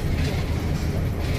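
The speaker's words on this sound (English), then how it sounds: "That's the train behind us." A small steam train at Currumbin Wildlife Sanctuary gives off a steady, close, low rumbling roll with faint rail clatter, with no voices.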